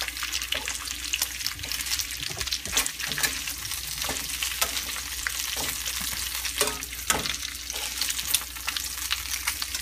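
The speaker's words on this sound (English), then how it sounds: "This is just flipping the bacon there. This bacon is easily burnt, so you have to be careful." Bacon fries in a pan for a low-carb breakfast. A loud, crackling sizzle runs continuously at close range, broken by scraping and clacks as the strips are flipped.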